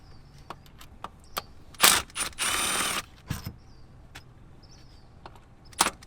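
A hand ratchet works bolts loose from the valve body of a ZF 6HP19/21 automatic transmission on a BMW, giving scattered sharp clicks with two longer bursts of rapid ratcheting partway through, close and fairly clear with no talking.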